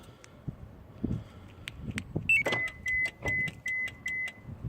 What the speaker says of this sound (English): the Compustar system was clicking and the car was unlocking and making noise